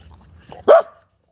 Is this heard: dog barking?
yes